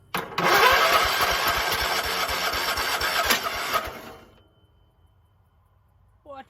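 An old Toro Wheel Horse lawn mower engine, badly flooded, cranks and catches, running loud and close for about four seconds before dying away into quiet, with a brief voice near the end.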